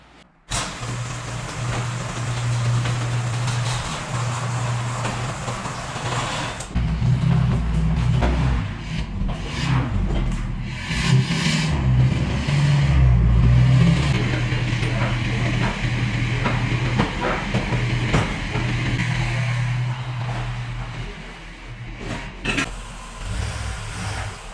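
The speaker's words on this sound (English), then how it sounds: "So now we're gonna back the trailer in the shop." A farm vehicle backs a trailer into a shop in winter, a steady engine drone with shifting rumble and rattling throughout, the engine note swelling midway and easing off near the end.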